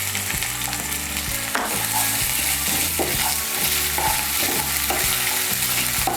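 Garlic paste stirred into hot oil in a pan for Bengali soyabean kosha, a steady loud sizzle with rhythmic scraping strokes of a spoon throughout, no voices.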